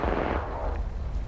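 Gunfire strikes the player in Apex Legends as a brief, loud burst of rapid shots in a dense crackling rush, fading slightly by the end.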